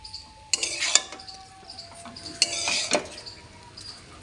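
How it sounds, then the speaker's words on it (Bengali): Egg chowmein with lime juice being stirred in a metal pan, scraping clinks of a spatula against the pan in a few short bursts over a soft sizzle, close and fairly loud. "এবার চাউমিনটা ভালো করে নেড়ে আমি নামিয়ে নিচ্ছি"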